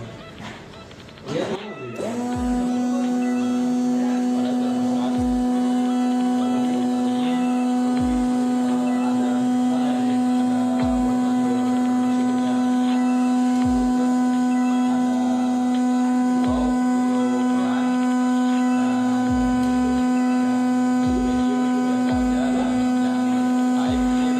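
Car air conditioner switched on with the engine running, settling into a loud, steady droning hum with faint periodic low thumps underneath, after a short burst of switching noise at the start.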